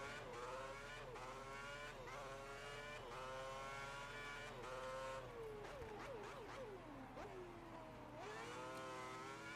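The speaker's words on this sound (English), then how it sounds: "Who's missed the sound of the Cosworth?" A Cosworth V8 in a Virgin Formula One car screams in the F1 2010 racing game, revving high through the gears with rising and falling pitch, quiet and continuous with no talking.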